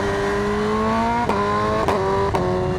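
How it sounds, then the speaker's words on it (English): A 2026 BMW M1000RR Stage 2 motorcycle revs under throttle, its engine tone climbing steadily. Three sharp quick-shifter cracks break in near the end as it snaps up through the gears, loud and close, with no talk. "You hear it crack into gear when you give it more throttle."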